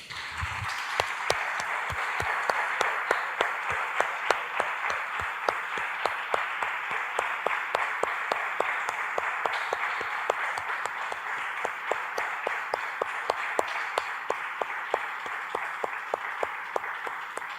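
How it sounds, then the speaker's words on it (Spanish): A church congregation applauds in sustained, rhythmic unison clapping, a steady beat of claps continuing for well over fifteen seconds at moderate, slightly distant loudness without talk. "Damos un aplauso, hermanos, al Señor."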